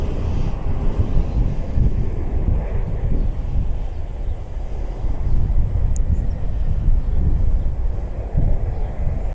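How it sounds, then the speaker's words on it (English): An airliner arriving at Cleveland Hopkins International Airport produces a steady, loud roar mixed with heavy wind buffeting on the microphone, continuous throughout without distinct peaks. "Looks like this flight's coming in on the right side."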